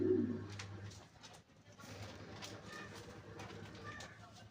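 Pigeons cooing inside a cage, soft low throaty coos at the start, then quieter chirps and rustling over a faint background hum.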